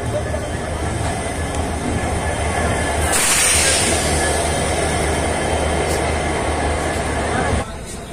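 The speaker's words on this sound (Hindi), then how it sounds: "अभी NJP स्टेशन क्रॉस कर रहे हैं।" Train rolling past New Jalpaiguri station in Bengal, a steady loud rumble of wheels and carriages with a brief higher squeal midway, heard continuously from on board.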